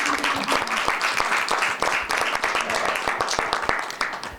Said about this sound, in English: I don't think that was applause for me.